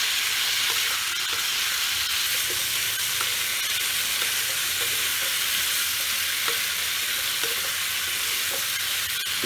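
Spice paste for kumror chokka, a Bengali pumpkin dish, fries in a pan with a steady close sizzle and a crackling hiss, mixed with stirring scrapes and spatula taps, with no voices.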